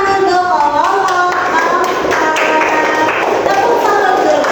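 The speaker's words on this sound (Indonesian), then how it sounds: "beri tepuk tangan untuk kelompok." A classroom of children claps for a group of classmates, loud close hand claps in uneven bursts with kids talking over them throughout.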